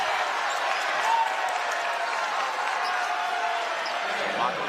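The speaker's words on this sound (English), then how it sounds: "Mock applause from the Fairfield fans" A crowd of college basketball fans claps sarcastically at a 2012 MAAC men's semifinal between Fairfield and Iona in an arena. The steady, fairly loud clapping and crowd noise run throughout, with a commentator talking over it.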